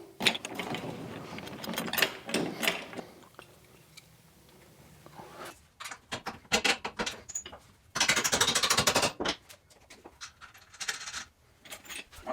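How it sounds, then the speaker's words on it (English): A jack is worked under the rear suspension of a Mitsubishi Lancer CE to raise it against the spring, giving close, repeated bursts of mechanical ratcheting clicks with quieter pauses between strokes. "So we'll put the jack under here, jack that up until these line up."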